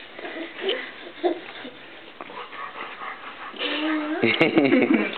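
A young dog whimpers and whines in soft, high bursts, with some panting and faint talk nearby, growing louder near the end.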